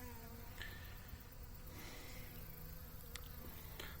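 Honeybees drone with a faint, steady buzz around a small backyard hive, individual insects passing near now and then over the continuous hum, with no talking.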